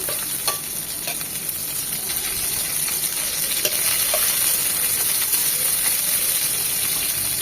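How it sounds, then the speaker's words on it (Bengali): Chopped garlic and onion fry in a pan for a chichinga bhaji, with a steady close sizzle and occasional scraping stirs; there is no talking. "রসুন কুচির আর পেঁয়াজ কুচিটা একদম নরম হবে, লাল লাল হবে।"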